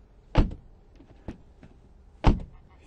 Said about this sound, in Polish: Dźwięk otwierania i zamykania drzwi to jest naprawdę szokujące.